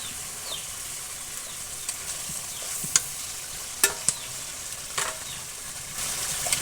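Khichuri made with kalai and chickpea dal fries in a pan, a steady soft sizzle under occasional scraping stirs and clinks, with no talking.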